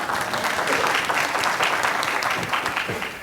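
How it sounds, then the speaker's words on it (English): A conference session crowd claps loudly and continuously, a dense, even wash of many hands sustained for about three seconds with only a slight fade at the end. "Round of applause for Val."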